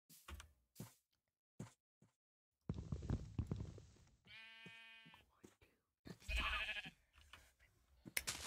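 Sheep bleating in Minecraft, a clear wavering bleat in the middle among scattered clicks, blocky footsteps and other short game sounds, with quiet gaps between.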